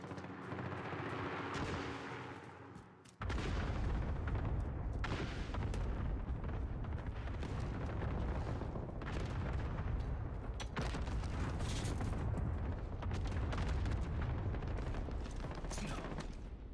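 Allied cluster strike in Call of Duty Modern Warfare online play: after a quieter opening, a dense, loud barrage of overlapping blasts and gunfire rumbles continuously for over thirteen seconds, with sharper bursts scattered throughout.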